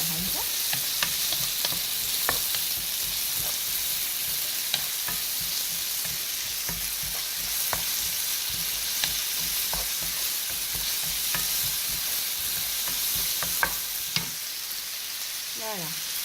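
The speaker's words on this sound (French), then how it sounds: "On mélange avec une cuillère à bois." Onions and leeks sizzle steadily in a pan while a wooden spoon stirs them, with repeated scraping and knocking clicks over the constant frying hiss.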